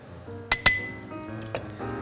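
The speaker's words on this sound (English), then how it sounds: "So I'm just gonna give a little stir." A spoon stirs a honey cocktail in a glass, giving two sharp, bright clinks close together, then a softer tap a second later, all close and clear over quiet background.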